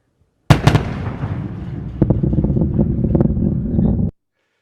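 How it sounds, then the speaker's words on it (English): Sonic boom from the Sentinel-6 Michael Freilich rocket launch: a sharp double crack followed by a rolling, rumbling boom that sustains for several seconds with wind buffeting the microphone, then cuts off abruptly. "I happened to get a little video of it where you can hear the sonic boom"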